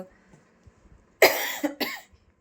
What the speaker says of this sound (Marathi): असा खोकला अधूनमधून येत राहतो